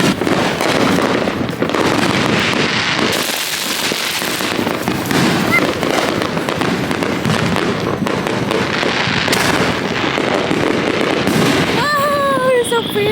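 A Fourth of July fireworks show sends out loud, continuous crackling bursts and booms, with a rising whistle near the end, while people talk over the noise.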